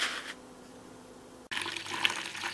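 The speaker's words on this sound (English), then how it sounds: "First runnings coming out nicely" Rye beer wort, the first runnings, flowing out during the sparge of a homebrew day, a steady liquid pour that grows louder and splashier after a brief pause.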